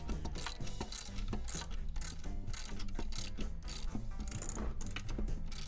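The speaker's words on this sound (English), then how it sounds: "Ratchet ASMR." A ratchet clicks in a steady run of fast mechanical ticks, close and continuous, with no talking.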